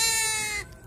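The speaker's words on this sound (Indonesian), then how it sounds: "Inilah kambing lokal yang beranak tiga." A local goat that has just given birth to triplets gives one loud, close bleat of rich harmonics that cuts off short, followed by quiet room noise.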